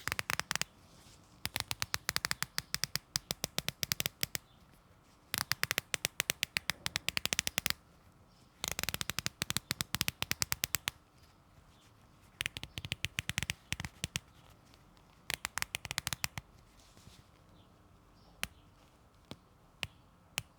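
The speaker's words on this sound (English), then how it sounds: "The bezel is, of course, only turning counterclockwise, and it features 120 clicks." A Blancpain Bathyscaphe dive watch bezel turns counterclockwise through its 120-click ceramic-inlay ratchet, giving quiet bursts of rapid fine clicks separated by short pauses.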